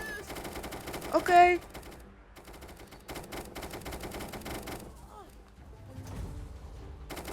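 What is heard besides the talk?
gunfire from the video game Rec Room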